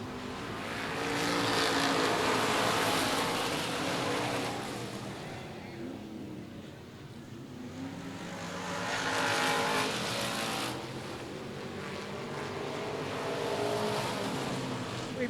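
Race cars on the dirt track at Cotton Bowl Speedway, engines roaring past in repeated swelling waves as the pack comes around and recedes, a loud continuous drone with tire noise and no voices.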